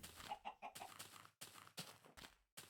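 Blocky pixelated chickens in Minecraft, played on an emulated Windows 98 setup, give off a series of short, close clucks in quick bursts, with brief quiet gaps between the calls and no talking.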